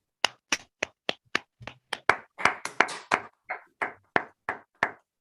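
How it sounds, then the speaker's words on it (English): At an end-of-year awards presentation, a small audience claps sparsely, with distinct separate hand claps in an uneven rhythm, close and fairly quiet, lasting about five seconds. "Let's give him a round of applause."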